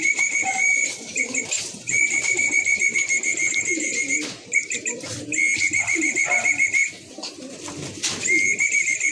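Repeated bird calls ring out in a steady series of clear, high whistled notes with short pauses between them, fairly close and loud, over soft background rustle.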